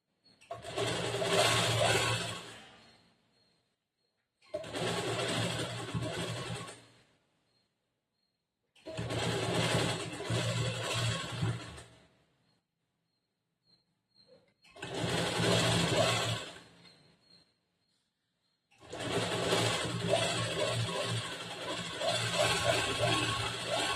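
A sewing machine stitches a back-hook blouse, sewing a second line of stitches over an existing seam. It runs in five separate bursts of steady whirring, each a few seconds long, with short quiet pauses between them.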